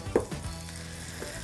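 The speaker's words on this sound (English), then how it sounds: "in my frying pan, I have 3 tablespoons of butter" Three tablespoons of butter sizzle and melt in a frying pan, giving a soft, steady crackling fry with a brief louder pop near the start.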